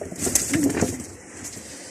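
A domestic pigeon coos inside a nest box, giving soft, low, throaty coos in short repeated bursts against a quiet room background, fairly close and moderately loud.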